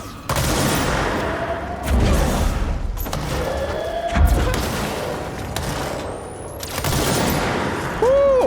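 Gunfire from a weapon in the video game Control, several loud booming shots and short bursts spaced across the clip with echoing tails and a few swooshing effects.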